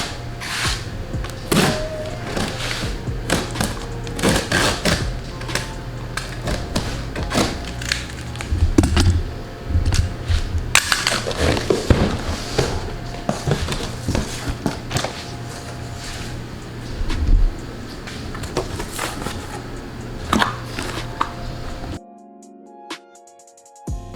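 A delivered package of front car bumper parts, including a matte black fuel door cover, is opened close by. There is a steady stream of crinkling, tearing and clattering handling noises, with no speech.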